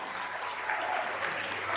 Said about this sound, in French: On va applaudir ensemble.